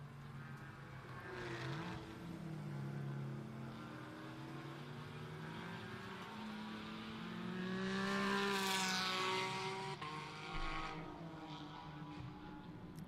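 A race car's engine held at full throttle through a double left-hander into the S-bends of a racing circuit, a steady harmonic roar that climbs in pitch and swells louder midway before easing, with no talk.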